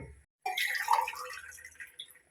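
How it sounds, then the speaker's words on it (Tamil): Glasses of water poured into a pot of rice for chicken biryani, a steady close splashing pour lasting about two seconds after a brief pause, with no talk over it. "நான் 4 கிளாஸ் அரிசி போட்டேன், 8 கிளாஸ் தண்ணி ஊத்தணும்."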